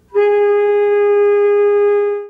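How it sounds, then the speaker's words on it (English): A saxophone mouthpiece blown on its own gives one loud, steady, buzzy tone held for about two seconds, clean and close with no talking. "Then drop your tongue down and push the air from your lungs through the mouthpiece"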